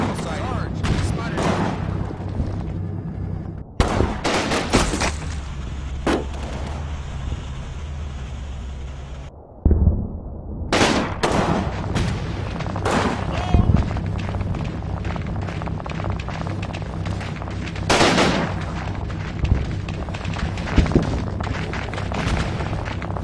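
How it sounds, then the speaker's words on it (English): German machine gun fire in the Combat Mission: Final Blitzkrieg video game comes as sharp, repeated bursts and heavier booms over a constant low rumble, with someone talking through much of it. "Machine gun from the Germans."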